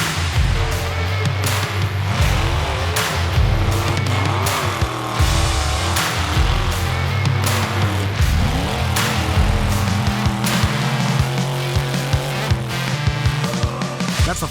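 A hill climb race vehicle at full throttle, its loud engine roaring steadily with sharp revving bursts and crackles, sustained close and powerful throughout with no pause.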